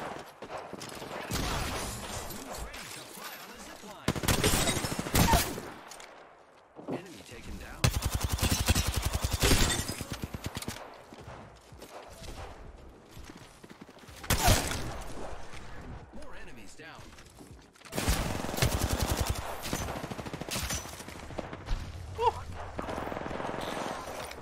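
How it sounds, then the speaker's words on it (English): Bursts of rapid gunfire in Apex Legends rattle off in several loud volleys separated by quieter gaps, while a player talks throughout. "I am taking fire, friends."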